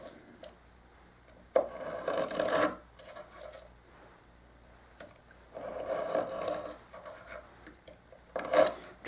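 Thin shim material is trimmed closely around the saddle of an acoustic guitar, heard as quiet, close scraping and cutting strokes in a few separate bursts with pauses between.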